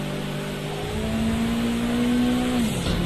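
Race car engine in a racing video game at Donington Park National, a steady sustained drone holding one pitch before dropping off near the end, loud and continuous with no talk.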